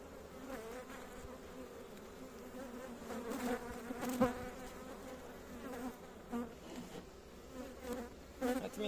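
Honeybees swarm around a hive, a quiet, dense buzzing with wingbeat hums rising and falling as individual bees pass close, continuous throughout.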